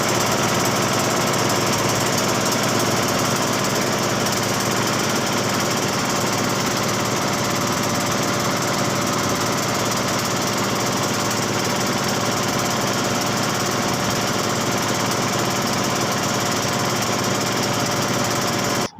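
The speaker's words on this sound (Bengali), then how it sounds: "আনন্দের সাথে ট্রলারের বিকট শব্দে তার মনে হালকা ভয় ভয়ও করছিল," River trawler boat engine, a loud harsh continuous drone with rattling mechanical vibration, close and unbroken for the whole stretch, with no voices heard.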